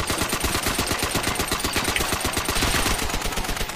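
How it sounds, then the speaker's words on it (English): Rapid automatic fire from a Browning automatic rifle in Call of Duty: World at War zombies mode on the Der Riese map, a loud steady burst of shots lasting nearly four seconds with no talking over it. "Browning automatic rifle."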